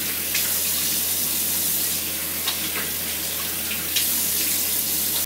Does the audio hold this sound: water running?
yes